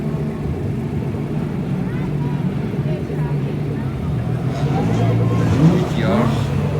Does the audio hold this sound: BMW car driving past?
yes